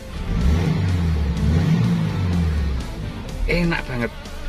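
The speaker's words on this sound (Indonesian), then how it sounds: "kita gas sesuai sama injekan kita" Engine of a classic Toyota Corolla KE20 revving under the throttle, a steady mid-pitched drone that swells and eases over several seconds, heard nearby while someone talks over it.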